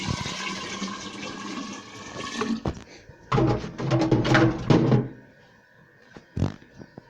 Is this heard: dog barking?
no